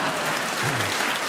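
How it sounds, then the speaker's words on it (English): Studio audience at a panel comedy game show breaks into loud, steady applause that fills the whole short stretch, with a faint voice surfacing briefly underneath. "they're clapping your emotional exposition there"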